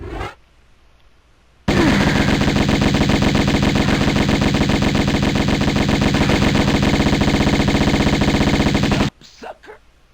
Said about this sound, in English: He has the shotgun.